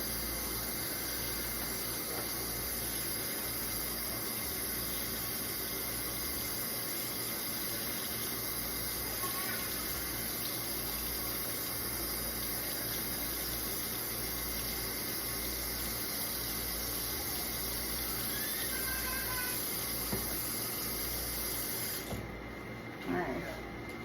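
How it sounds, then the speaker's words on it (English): Constant rushing hiss of hot tap water, steady and close, with faint sponge scrubbing and clinks of surgical instruments in the background before it cuts off near the end. "Run it under the hot water."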